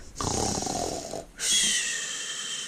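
A voice imitates snoring: a raspy, drawn-out inhale followed by a brief pause and a higher, whistling snort, close and loud.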